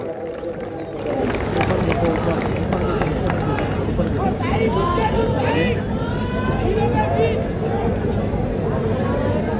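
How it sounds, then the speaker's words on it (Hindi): Crowd at an outdoor political rally on a large maidan breaking into loud sustained applause and cheering, a dense wash of clapping with shouts and babble that swells and holds. "जोरदार तालियों से हमारी बहन का इस्तकबाल करें"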